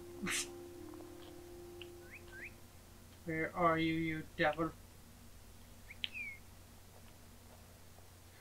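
A caged cardinal in a video game gives a few short, faint chirps, separated by a line of spoken dialogue.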